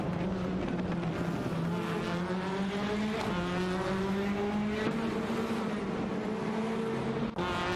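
Race cars in a racing video game, a Honda Civic and an Alfa Romeo Giulietta TCR battling for position, with a continuous droning engine tone that rises steadily in pitch, other engines layered underneath, loud and close, no talk.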